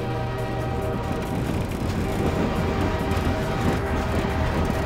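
A train rumbles steadily through a Half-Life 2: Episode Two game scene, a dense continuous mechanical roar with rattling carriages that stays loud and close throughout, with no voices over it.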